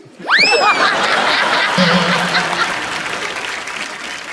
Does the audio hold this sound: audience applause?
yes